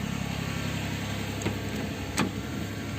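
A Nissan car's engine idles steadily just after a dead battery was jump-started, a smooth continuous mid-low hum with a couple of faint brief clicks, close and without talk.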